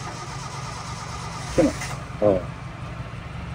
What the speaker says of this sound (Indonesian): Mesin kita hidupin ya, mesin kita hidupin.